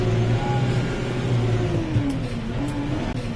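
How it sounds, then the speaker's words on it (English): Landini C6-130C tractor pulling up a steep road hill: a steady engine drone under load, its pitch sagging and recovering slightly, with faint road noise around it. "So we're just going to see how the tractor performs on a climb."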